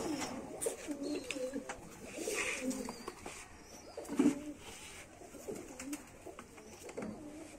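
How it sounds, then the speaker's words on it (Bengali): A pair of silver pigeons coo softly in a breeding room, with low throaty calls recurring at close range over faint background noise. "এই যে এক পেয়ার সিলভার কবুতর"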